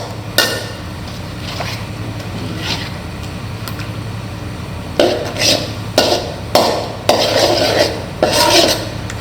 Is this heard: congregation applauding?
no